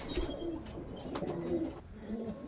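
Fancy pigeons, including fantails and black rollers, coo steadily in a pigeon loft, low soft repeated calls filling the space with a few faint chirps over light background noise.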